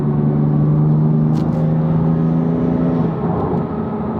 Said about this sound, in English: you do really hear this cool turbo noise. So it does sound really nice spooling up.